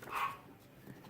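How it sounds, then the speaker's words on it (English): A neighbor's dog gives a single short, faint bark at a distance, heard alone. "That's like the neighbor's dog."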